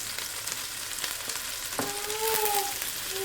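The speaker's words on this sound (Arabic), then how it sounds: "هنا غادي ندوزو باش نضيفو الكويرات ديال الكفتة ديالنا" Kofta meatball balls sizzle and crackle steadily in oil in a pan over medium heat, with a continuous close frying hiss and no voices.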